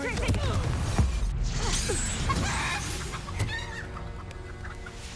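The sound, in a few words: chicken clucking sound from Hogwarts Legacy video game spell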